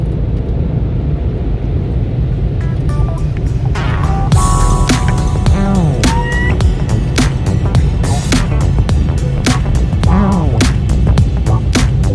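Powerful drying blower in an automatic touchless car wash in snowy Canada, a steady loud roaring hum with scattered dripping and tapping clicks across the whole span.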